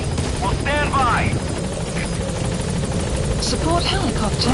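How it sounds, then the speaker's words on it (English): A video game support helicopter's steady rotor drone hovers nearby throughout, with radio-style chirps and electronic beeps over it. "Support helicopter has arrived."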